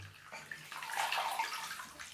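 Water splashes and sloshes in a bathtub during a baby's bath, a soft, continuous wash of running and lapping water at low volume, with no talking.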